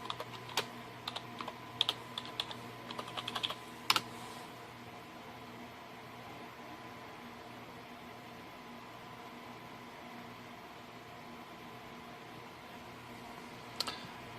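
Keys clatter in a quick burst of typing on a computer keyboard while entering a login password on a Windows Server 2012 R2 machine, then the room falls to a steady fan hum with one last click near the end.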